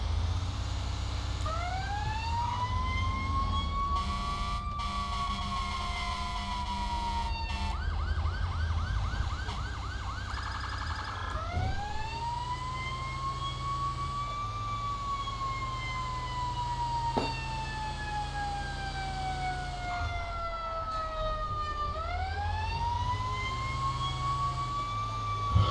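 A fire engine siren in the FivePD video game wails in long rising and falling sweeps, switching briefly to a rapid yelp, with a steady engine rumble underneath and no voices.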